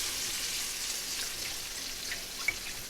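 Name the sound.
chicken broth poured into hot pan, sizzling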